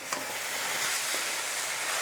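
Ramen noodles being stirred with stir-fry sauce in a hot pan for beef and broccoli, a continuous loud sizzle and hiss with a couple of brief utensil scrapes, no talking.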